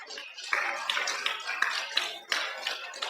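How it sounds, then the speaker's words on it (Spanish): A congregation claps loudly and continuously at a Spanish-language church service, with dense applause and a few sharper claps standing out, and voices faintly mixed in. "Dale un fuerte aplauso al Señor."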